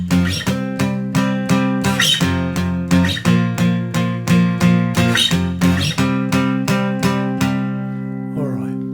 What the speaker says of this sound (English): electric guitar comes in and it plays bar chords.